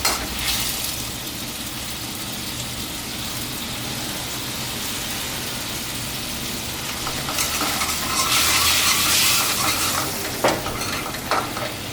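Tubtim fish stir-fried with celery hisses loudly in a pan after a splash of water goes in, a dense close sizzle that swells into a sharper hissing burst partway through.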